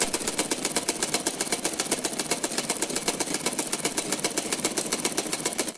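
A sewing machine runs steadily while stitching a blouse, its rapid, even needle clatter close and continuous for several seconds before stopping abruptly at the end, with no talk.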